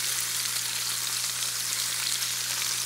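Food frying in a single pan, with onion, oyster sauce and potato: a close, steady sizzle and crackle held at even loudness throughout, with no talking.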